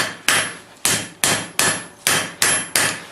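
A hammer upsets the boss of forged bolt jaw tongs on an anvil, ringing out in eight sharp, evenly spaced metallic blows, each fading quickly before the next.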